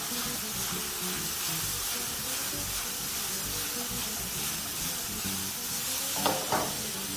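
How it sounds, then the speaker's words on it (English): Chicken and pineapple pieces being tossed with teriyaki sauce in a hot pan, a continuous close sizzle and hiss with soft stirring, ending in a couple of brief clatters. "And at this stage now we're going to add our teriyaki sauce. Just proceed to toss everything together."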